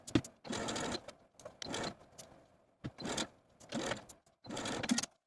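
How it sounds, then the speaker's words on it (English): A sewing machine basting two overlapped front bodice pieces of sheer stretch mesh, running in several short bursts of stitching separated by brief pauses, close and fairly quiet. "I'm going to take my pinned front bodices to the sewing machine and baste them together right in the middle of the overlap of those two front bodice pieces"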